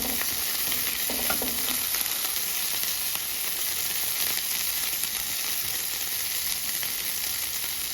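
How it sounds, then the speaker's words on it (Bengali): Tomato frying in oil in a pan while making Maggi noodles, a steady loud sizzle with a few light stirring scrapes early on and no speech. "টমেটোটা একটু ভেজে নিয়ে ভালো করে ভাজতে হবে।"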